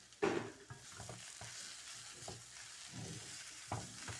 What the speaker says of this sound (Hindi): बस हल्का जब ऐसे सौते करना है कि पालक अपना कलर जो है वो दाग पे ना चली जाए।